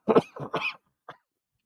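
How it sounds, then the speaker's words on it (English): A few harsh coughs close by, a quick burst of three followed after a pause by one softer, shorter cough. "when I'm holding it in my mouth and a cough sneaks up on me"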